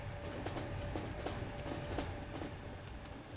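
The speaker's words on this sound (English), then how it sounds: "you're really gonna let the Pendolino out first." A Pendolino train runs in the Transport Fever 2 simulation game: a steady rail rumble with faint rhythmic clicks from wheels on track joints, moderately quiet and without speech.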